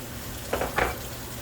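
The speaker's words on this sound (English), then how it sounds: "So again, I'm going to bloom those herbs" Dried marjoram, oregano and garlic powder blooming in hot oil in a pan, giving a soft steady sizzle with two brief louder bursts of crackle, close and without talk.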